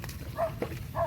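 Two short barks from a dog at moderate distance, spaced about half a second apart, with faint outdoor background noise.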